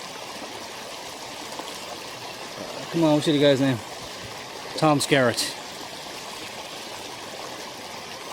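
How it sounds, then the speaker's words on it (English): River water runs steadily beside a campsite, a constant broadband wash throughout, with a voice speaking briefly twice over it. "the river makes you think that there's people here, even when there's not people here."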